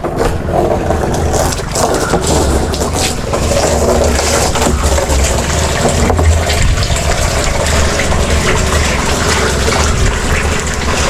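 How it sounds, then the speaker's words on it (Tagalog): Water gushes steadily into plastic storage drums, a continuous loud rushing and splashing fill with a low engine-like hum underneath, running without pause and without talk. "May 3 drum pa akong pinupuno."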